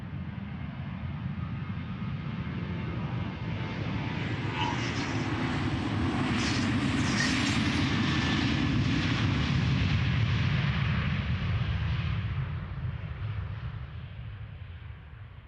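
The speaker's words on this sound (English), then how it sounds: "There's also this little Ryanair 737 taking off." A Ryanair Boeing 737 takes off at Amsterdam Schiphol Airport, its jet engines a broad, steady roar that swells toward the middle and slowly fades as the plane climbs away.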